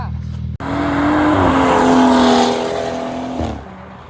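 A BMW 335is with the twin-turbo N54 engine and a burble-tuned exhaust roars loud and close, revving hard for about three seconds after a sudden start, then easing off with a rumbling tail.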